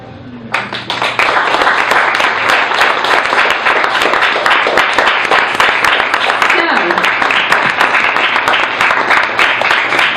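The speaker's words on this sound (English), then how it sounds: "A big round of applause." Open mic audience applause: loud, dense clapping starts abruptly and holds steady for about ten seconds, with a voice briefly audible underneath.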